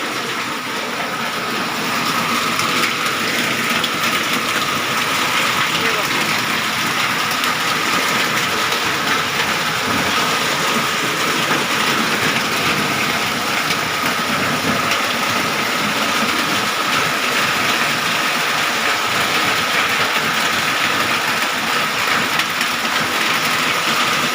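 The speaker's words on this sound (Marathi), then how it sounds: "बाहेर बघू शकतो पाऊस किती जास्त पडतो आहे" Heavy monsoon rain pours outside, a loud, unbroken broadband roar that holds steady for the whole stretch with no talk over it.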